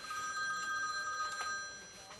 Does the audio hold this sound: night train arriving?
no